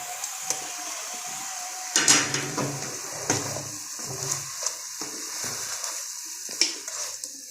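Tomatoes are mashed into frying chicken karahi in a pot, a low sizzle broken by irregular scraping and clinking knocks of a utensil against the pan, with no talking.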